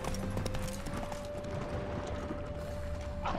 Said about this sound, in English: Ah, salta, maldito caballo, venga.